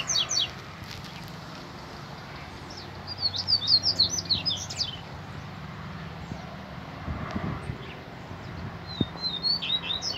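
Double-collared seedeaters call from the bush in bursts of quick, bright chirping and trills against a soft wind and a low outdoor rumble, with one loud phrase near the middle and fainter calls before and after.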